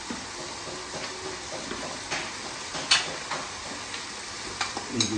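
Spices tipped into a pan of mutton karahi crackle and sizzle in hot oil, a steady close frying hiss with scattered sharper pops and a few stirring scrapes, no voices.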